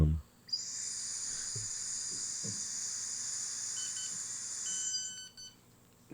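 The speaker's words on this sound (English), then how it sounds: "blow until you hear 2 beeps" A breathalyzer gives off a long, steady high-pitched electronic tone lasting about four seconds, then breaks into a few short bleeps before stopping. It is loud and close, with a couple of faint low thumps underneath.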